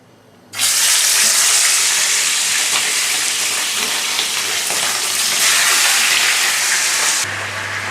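Chicken roast pieces drop into a hot pan and set off a loud, steady hiss of high-heat frying. The hiss starts suddenly and stays close and continuous, then drops off sharply near the end.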